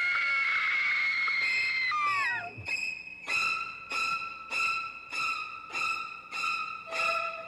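At a haunted house attraction, shrill screams ring out, first one long sustained shriek, then a series of about eight short, evenly spaced screaming bursts, loud and alone.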